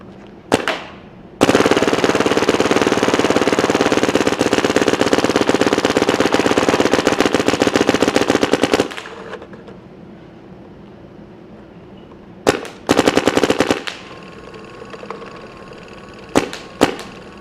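Paintball marker with a Dye Rotor loader firing rapid, continuous bursts, loud and close, one long stream of shots followed by shorter bursts after a pause.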